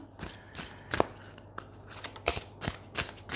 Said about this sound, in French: je prends d'abord une carte de l'oracle chamanique